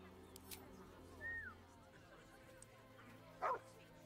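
A dog in Baldur's Gate gives a couple of short, high yips and a whine, faint against a quiet ambient background.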